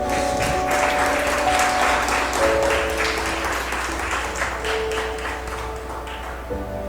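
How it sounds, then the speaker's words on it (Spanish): A church congregation claps together during a Spanish-language sermon, a loud, steady wash of many hands applauding for several seconds, with sustained organ or keyboard chords underneath. "Denle palmas al Señor."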